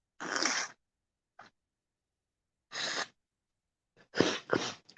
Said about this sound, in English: Blow my nose here.